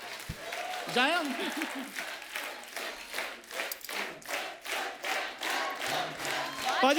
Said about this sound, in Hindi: बाजी तालियां मेरे लिए, तालियां।